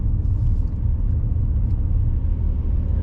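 A car engine drones in third gear from inside the cabin, a steady low rumble with a slight strained hum, loud and even throughout.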